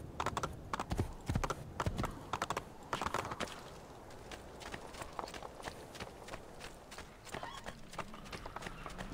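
Horse hooves clip-clop steadily in the Assassin's Creed video game, a brisk repeating clatter of footfalls running through the whole stretch over a busy ambient background.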